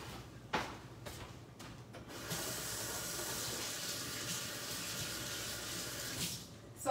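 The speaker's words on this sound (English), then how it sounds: "So I'm gonna wash my hands." A kitchen sink faucet runs steadily while hands are washed under it, a continuous close splashing water sound after a few brief knocks at the start.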